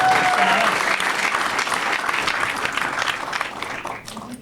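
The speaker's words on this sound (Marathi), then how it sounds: "एकदा जोरदार टाळ्या भाई मानससाठी" A comedy show audience breaks into loud, sustained applause for a comedian; the clapping is dense and close, then gradually thins and fades toward the end.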